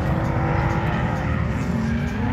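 Nissan Silvia with a V8 engine swap drifting at night, its engine roaring loud and continuous with tire squeal and skidding mixed in, close by and sustained throughout.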